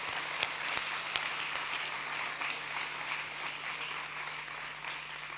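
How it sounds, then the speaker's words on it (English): Audience applause at the opening ceremony of an online learning world conference, steady clapping from a crowd sustained for several seconds, moderately distant and even, with no talking over it. "Let's give them another round of applause."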